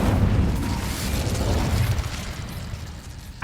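Incendio fire spell blast cast in Hogwarts Legacy, a loud sustained whooshing boom with heavy low rumble that slowly fades over a few seconds, ending in a short sharp pop.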